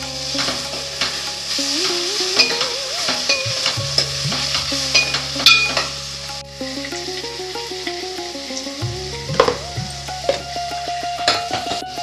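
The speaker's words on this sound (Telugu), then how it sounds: "ఇదిగో 2 అల్లం వెల్లుల్లి పేస్ట్ అయితే వేగిపోయింది, ఉల్లిపాయలు కూడా వేగిపోయినాయి." Ginger-garlic paste and onions fry in a pan with a steady sizzle, broken by repeated scraping stirs of a spoon, loud and close, alongside a low humming tone.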